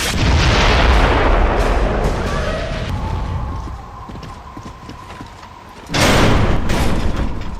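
Mortar fire in a Gears of War: Judgment cutscene: loud, dense rumbling blasts that ease off midway, then a fresh heavy burst near the end.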